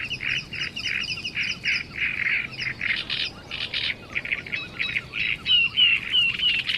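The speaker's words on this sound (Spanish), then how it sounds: "las aves que han encontrado su sitio se entregan al canto." Reed warblers and other reedbed birds singing in spring at Lake Neusiedl: dense, overlapping chattering and scratchy warbling phrases, fairly close and continuous, with no voices.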